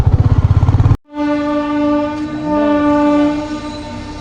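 A train near Katiki waterfall in Araku Valley, running through tunnels: a rhythmic rumbling passage is followed by a loud, sustained horn blast that holds for several seconds, with no voices present.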